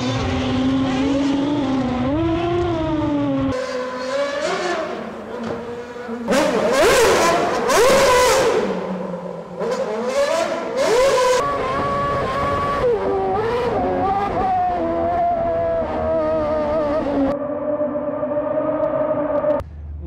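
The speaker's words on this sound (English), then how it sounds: "it's driving an F1 car on a bridge" Formula 1 cars driving across the Bosphorus Bridge, engines screaming close by with rising and falling pitch through gear changes, loud and continuous with sharp upshifts and passing swells.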